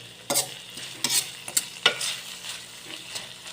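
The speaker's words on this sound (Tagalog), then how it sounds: "Nilagay ko na yung okra mga idol. Halo-haloin lang." Okra for pinakbet with chili stir-fried in a pan: a steady sizzle with several scraping stir strokes of a utensil, close and clear, no talking.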